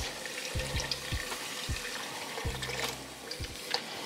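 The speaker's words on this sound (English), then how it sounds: "And then we're gonna add in 3 cups of beef broth." Beef broth is poured into a skillet of flour over low heat for stew, giving a soft steady liquid pour and sizzle with several dull low knocks of the pan or utensil, close and without talk.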